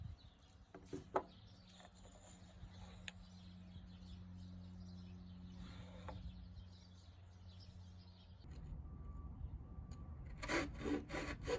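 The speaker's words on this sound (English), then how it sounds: "Then I cut out the tenon on the handle partially, which will be going into the mallet head." A hand saw cuts a tenon on a wooden joiner's mallet handle, with steady back-and-forth rasping strokes close by, quiet overall, and faint birdsong outside in the background.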